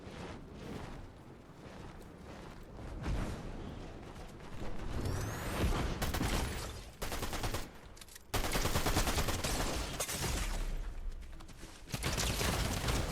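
Weapons fire in the video game Fortnite in dense bursts, with rapid gunshots and loud blasts coming close together over a constant roar of game noise.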